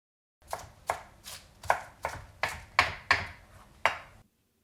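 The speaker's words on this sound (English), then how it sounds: "we're just going to shred our lettuce into thin strips so that it will be easier to roll" A knife shreds lettuce into thin strips on a cutting board, about eight crisp, evenly spaced chops, close and clear with no talking.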